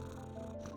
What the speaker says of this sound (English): he rubs my chin with the back of his head, purring with delight